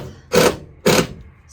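Two short bursts from a power drill driving self-drilling screws down into a bowed subfloor board in a converted school bus, each roughly a quarter second, close and loud with quiet gaps between.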